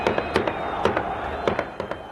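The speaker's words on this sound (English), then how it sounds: "Palestinians furiously firing rifles at Yasser Arafat's funeral" Rifles fired repeatedly by mourners at Yasser Arafat's funeral in a 2004 news report, sharp cracks coming in quick irregular bursts over a dense crowd roar.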